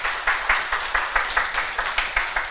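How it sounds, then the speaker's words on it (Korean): A church congregation claps together in a slow, steady unison rhythm, about two claps per second, full and fairly close, with no talking over the claps. "우리 박수로 하나님께 먼저 영광 돌리고요"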